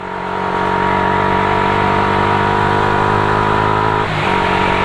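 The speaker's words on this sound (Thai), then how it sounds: "โอ้ท่อดังแล้วขับ" Loud exhaust of a vehicle revving, a steady droning engine tone held close and loud, with a short dip and shift near the end.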